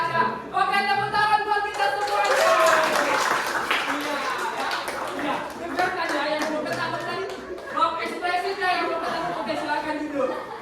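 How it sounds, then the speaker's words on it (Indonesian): Classroom applause from students, scattered clapping mixed with lively chatter and laughter, continuous and fairly loud throughout with voices prominent over the claps. "Oke, tepuk tangan buat kita semuanya."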